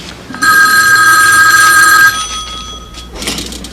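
A home telephone rings with a bright, steady electronic bell tone for nearly two seconds, loud and close, then stops, leaving faint room noise and a brief rustle.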